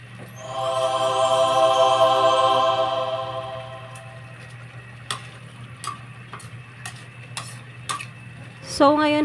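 A spoon scrapes and stirs ginataang langka, jackfruit in coconut milk, in a metal pot, a steady loud scraping swirl at first that fades into scattered clinks and taps, ending with a sharper knock.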